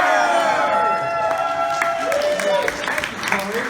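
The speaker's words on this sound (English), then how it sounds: "Get another round of applause for the original voice cast of the Teenage Mutant Ninja Turtles" Audience applause and cheering at a Teenage Mutant Ninja Turtles convention panel honoring the original voice cast, a steady crowd roar with scattered clapping running under overlapping voices throughout.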